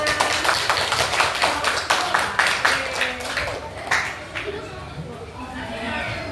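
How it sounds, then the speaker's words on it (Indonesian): A sixth-grade maths class claps in a rhythmic chant-like pattern, sharp distinct claps in a quick beat that loosen and fade, with children's voices mixed in. "Tepuk tangan."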